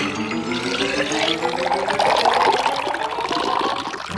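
Dirty water pours through a filter in a steady trickling stream, close and continuous, with a watery splash that swells slightly midway and then holds.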